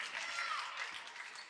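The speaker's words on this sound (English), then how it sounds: "Great discipline by the Storm here, and clapping by the home crowd" A home crowd at a girls' high school basketball game claps steadily in a dense, continuous patter that stays even and moderately distant for the whole moment.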